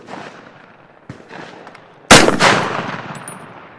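A single loud rifle shot from an M1 Garand fired at vegetables outdoors, a sharp crack followed by a decaying rumble, preceded by a couple of faint knocks and outdoor background noise.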